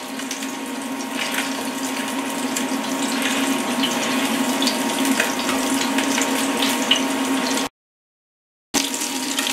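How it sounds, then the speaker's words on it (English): Kitchen tap water runs steadily as hands are washed under it while making tofu and turkey patties, a close continuous splashing that cuts off briefly near the end, then resumes. "I go wash my hand again"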